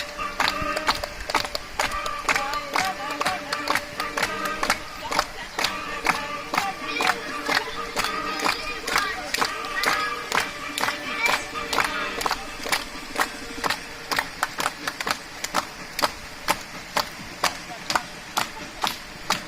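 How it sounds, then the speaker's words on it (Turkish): A group of hikers celebrating Victory Day on 30 August in a canyon claps in a loose, uneven rhythm, the sharp claps growing sparser and more distinct toward the end. "Haydi alkış."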